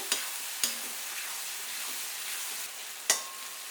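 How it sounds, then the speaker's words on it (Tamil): Onion, ginger and garlic sauté in oil with a soft, steady sizzle. A few sharp clinks of a spoon against the pan break in at intervals, close and otherwise quiet, with no talking. "நல்லா வதங்கட்டும் இந்த அளவுக்கு நல்லா வதங்கி வந்துருக்கு"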